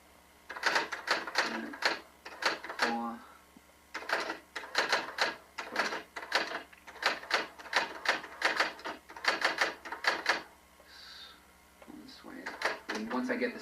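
Slow one-finger typing taps out keys in irregular clusters of sharp, close clicks, broken by short pauses between bursts.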